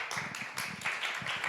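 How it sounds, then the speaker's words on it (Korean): Audience applause at a leadership communication lecture in Dallas, a short burst of steady clapping from a room of listeners, fairly close and continuous with no talk over it. "예, 박수 부탁드리겠습니다."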